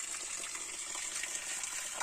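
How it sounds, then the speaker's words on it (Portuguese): Spring water from a mine flows steadily outdoors at a family nature spot, a constant even hiss and gurgle of running water with no voices. "É água da mina aí. É direto."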